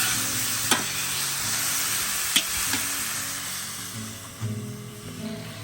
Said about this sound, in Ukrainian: Коли осмажили цибульку до золотого кольору